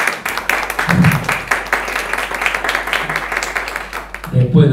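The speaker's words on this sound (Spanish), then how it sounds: "le damos un aplauso acá que llegó." Audience applause at a trichology conference welcoming a doctor, moderate and scattered clapping under a host's continuous speech.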